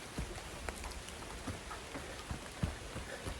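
Steady rainy-weather patter of rain falling on the ground outdoors, a soft continuous wash with scattered drops tapping close by, no voices.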